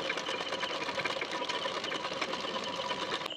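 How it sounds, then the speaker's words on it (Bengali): A sewing machine stitches along the edge of a fabric strip, its needle running in a fast, steady mechanical whir close up, with no speech. "তো এখানে আমি মেশিনে সেলাই দিয়ে নেব।"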